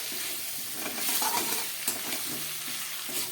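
Roasted cumin, coriander, dried chilli and pepper go into a sizzling cauliflower and catla fish curry. A low frying hiss carries on under soft, close stirring scrapes.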